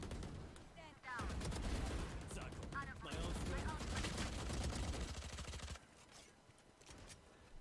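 Automatic gunfire in the shooter game Valorant rattles out in loud bursts, starting after a brief lull and running steadily for several seconds before dropping away near the end, with a voice speaking over it.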